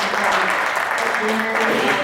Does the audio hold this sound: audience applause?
yes